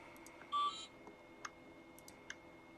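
A hexacopter drone motor driven by a Hobbywing XRotor ESC gives a short electronic beep, followed by a few faint clicks and chirps in an otherwise quiet room.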